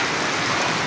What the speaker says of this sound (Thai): ฝนตกพี่น้องตกแห้งอย่างนี้นะพายุเข้าเด้อพี่น้องเด้อ พายุเข้า